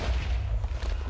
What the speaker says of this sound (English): I'm hearing explosions all over the place